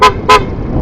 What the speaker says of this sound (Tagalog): Ganda ng busina mo, oh.